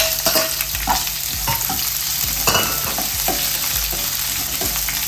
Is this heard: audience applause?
no